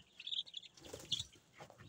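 Thirteen-day-old chicken chicks on a small home farm give a few faint, high, brief chirps with quiet gaps between them.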